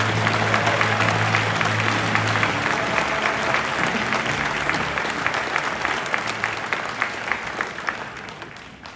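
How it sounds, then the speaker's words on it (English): A large crowd at a NASA U.S. Astronaut Hall of Fame induction ceremony applauds continuously, dense clapping that stays strong before gradually thinning out toward the end. "Let's have one more round of applause for our United States Astronaut Hall of Fame astronauts."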